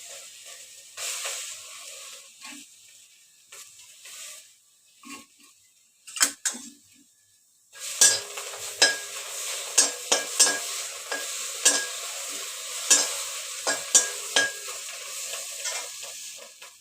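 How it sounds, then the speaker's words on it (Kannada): Tamarind, curry leaves, dried chillies, garlic and onion dry-roasting in a pan without oil, a faint soft sizzle broken by sparse clinks, then louder, repeated scraping strokes of a spatula against the pan close by. "ಎಣ್ಣೆ ಹಾಕದಿರೆ ಹುರ್ಕೋಬೇಕು ಎಲ್ಲ"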